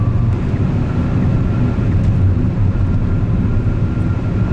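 Hyundai Sonata Sensuous turbo cruising at high speed, a loud, steady low rumble of road and wind noise filling the cabin with no break and no talking.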